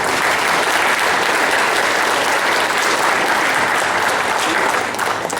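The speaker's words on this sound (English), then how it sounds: "Give him an applause." Sustained applause from an audience at an official offering ceremony, steady and loud throughout with dense clapping and no break.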